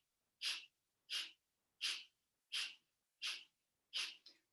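Rapid pumping breaths during a yoga breathing exercise, six forceful nasal exhalations in an even rhythm about every 0.7 seconds, close and clear with silence between them.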